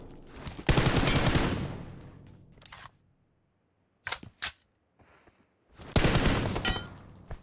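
Bursts of rapid gunfire crackle loudly in PUBG Mobile, broken by short single shots and brief quiet gaps, with a synthetic, game-like sharpness.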